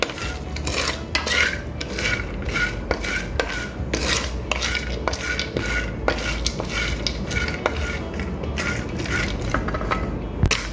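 Almonds fry in a pan over low heat while being stirred continuously, with a steady run of scraping clinks and rattles from the spoon against the pan over a low sizzle.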